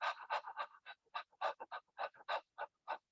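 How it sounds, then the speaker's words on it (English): A person pants rhythmically with an open mouth during a kundalini yoga class, a quick series of about fifteen short breathy bursts, close and fairly quiet, with no talking. "just kind of open your mouth and pant a little bit"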